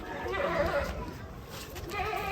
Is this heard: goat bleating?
yes